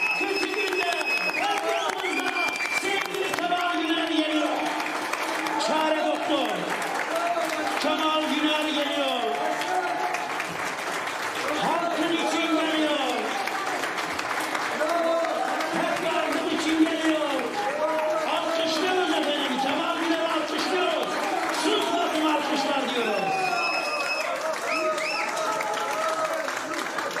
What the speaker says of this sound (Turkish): O alkışlar ellerde güller bitsin diyorum.